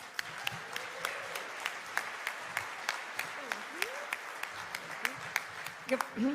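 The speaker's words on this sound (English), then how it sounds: "if we can give her a huge round of applause" A conference keynote audience applauding with many hands clapping at a brisk, uneven rhythm, moderately loud, with a voice starting to speak near the end.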